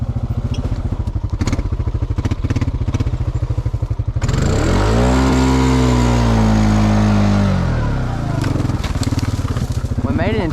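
Honda Rancher ATV in two-wheel drive grinding over rough ground during stormy weather, a loud, close engine chugging steadily, then straining and rising in pitch as it climbs before settling again, with clattering underneath.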